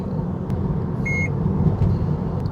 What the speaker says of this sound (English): So you just heard the toll device beep